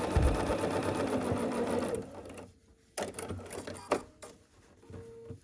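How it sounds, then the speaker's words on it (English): A sewing machine stitches fabric for a sawtooth star quilt block, running in a steady, dense buzz for about two seconds, then stopping to a few sharp clicks and light handling noises. "then we're going to sew the rest of this length"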